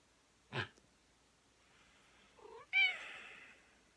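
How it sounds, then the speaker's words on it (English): A cat meows twice, a short low call followed by a louder, drawn-out whiny meow, after a brief bump near the start; close to the microphone. "Stuck with this cat."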